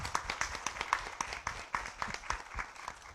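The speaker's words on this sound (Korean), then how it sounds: "박수 한번 부탁드릴게요." Audience applause at a Korean intellectual-property talk concert on film, a steady patter of many hands clapping at moderate level through the whole stretch with no voices over it.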